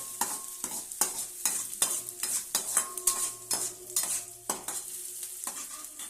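Sliced onions fry in hot oil for egg rice. A utensil scrapes the pan in regular, rhythmic strokes over a steady sizzle, close and fairly loud.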